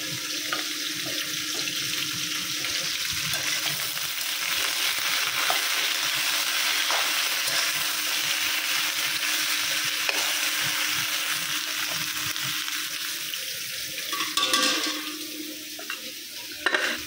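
Food cooking in a pot on a home stove gives a steady, close bubbling and sizzling hiss that runs without a break, with a few clinks and small stirring noises near the end. No one speaks.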